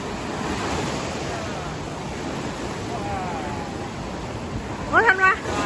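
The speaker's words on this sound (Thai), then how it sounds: "ธันวาเพิ่งมาทะเลครั้งแรกใช่ไหม" Ocean surf washes steadily onto the beach at Cha-am, a broad continuous rush with some wind, and a short burst of voices near the end.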